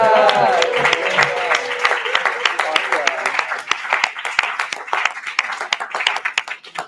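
A class claps for the student of the week, a steady burst of hand applause lasting several seconds with voices talking over it, thinning out toward the end.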